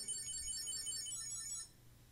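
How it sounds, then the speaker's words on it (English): A wallet tracking device beeps after being triggered from a phone, giving a brief bright electronic chirping tone that stops abruptly after under two seconds. "I can track its precise location or make it beep from my phone."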